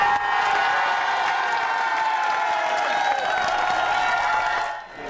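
Liberal MPs at a parliamentary caucus meeting cheer and applaud steadily for new members, a dense, loud roar of clapping and whoops that holds for about five seconds before dropping away at the end.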